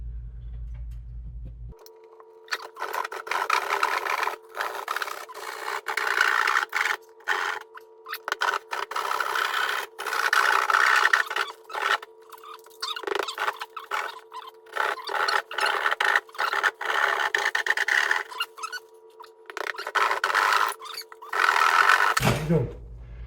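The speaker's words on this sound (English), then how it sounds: "So I should be good to cut all three sides of this without any fear of cutting anything, because there's only the sheetrock and insulation there." A saw cuts through a sheetrock wall with insulation behind it during an indoor mini-split unit installation, loud rasping strokes in bursts with brief pauses, close and alone.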